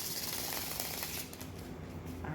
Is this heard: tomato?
no